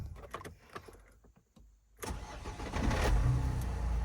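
Faint shuffling and clicks, then a 2013 Renault Trafic 2.0 diesel van engine cranks and catches, settling into a loud, steady idle that runs to the end.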